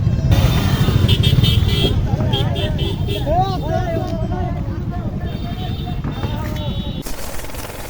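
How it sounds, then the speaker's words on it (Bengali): A motorboat engine drones loudly and steadily while crossing the Tanguar haor wetland, with people talking over the constant motor noise throughout. "এখন আমরা নৌকায় করে পার হচ্ছি"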